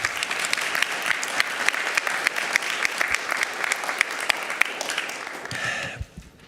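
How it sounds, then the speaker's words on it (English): Audience applause at a school district board meeting honoring students, a dense steady patter of many hands clapping that carries on for several seconds before cutting off abruptly near the end. "Let's give them a round of applause"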